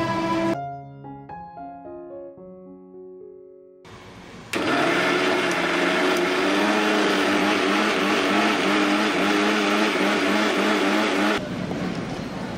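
An electric mixer grinder starts with a loud roar and keeps running steadily, grinding coconut, tomato, coriander, ginger, garlic and cumin with water into a paste, then stops abruptly after a few quiet musical notes at the start.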